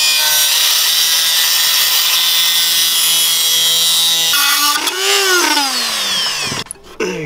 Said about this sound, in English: we're gonna have to trim off this piece right here